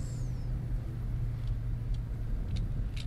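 A vehicle drives in the farming game Farmer's Dynasty, giving a continuous, even engine drone and low rumble, with a few faint higher ticks near the end and no voices.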